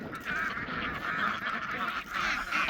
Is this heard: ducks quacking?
yes